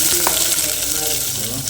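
Onions hit hot oil with cinnamon, cloves and cardamom in a pan for chicken and potato curry, giving a steady close sizzle and crackle that lasts the whole short moment.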